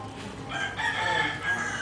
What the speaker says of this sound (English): Those roosters are...